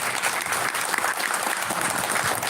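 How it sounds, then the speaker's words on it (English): An audience at an academic fair breaks into a full, sustained round of applause, dense and loud from start to finish. "For a great round of applause."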